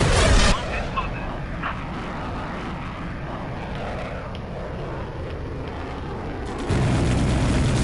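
Bombs going off in the Air Conflicts Vietnam video game, a heavy blast opening and another booming in near the end, with a steady aircraft engine drone rumbling between them.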